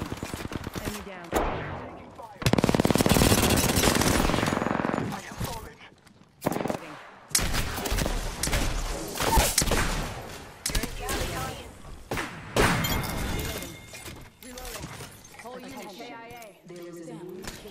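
Heavy gunfire in Apex Legends, with repeated bursts and fusillades of automatic shots over about eighteen seconds, loud and close with brief pauses, while voices talk throughout.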